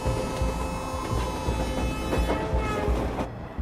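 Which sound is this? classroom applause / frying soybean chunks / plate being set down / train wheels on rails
train wheels on rails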